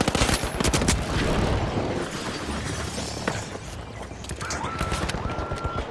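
Rapid turret gunfire in the shooter game The Finals, a dense, loud, continuous stream of shots with shattering impacts, steady throughout without any talk.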